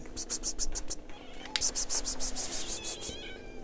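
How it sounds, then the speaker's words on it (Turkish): Cats outdoors on a foggy morning in Rize, Turkey, meow repeatedly at close range, with a quick series of short calls, a brief pause, then another run of meows. Someone speaks briefly among them. "Kedilerimiz de burada."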